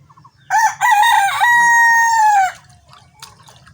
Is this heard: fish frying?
no